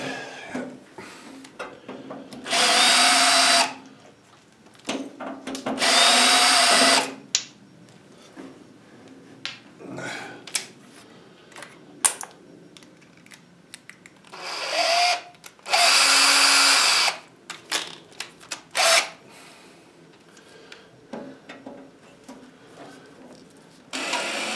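A power drill whirs in several loud sustained bursts a few seconds each, separated by quieter clatter of tools and handling in a workshop, with no clear speech.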